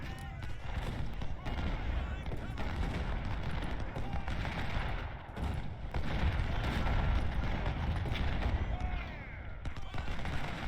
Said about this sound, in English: He's taking fire from 3 brigades.